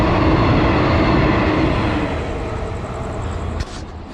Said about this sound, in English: Like a very small local train